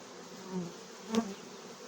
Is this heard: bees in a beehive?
yes